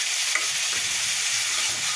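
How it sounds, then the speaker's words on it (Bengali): Loud, steady sizzling of meat frying with spices in a hot pan, with occasional scraping as it is stirred; no voices. "মশলা ভালোভাবে মিশিয়ে দিয়েছি। এখন কষিয়ে নিতে হবে।"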